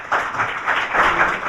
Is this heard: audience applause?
yes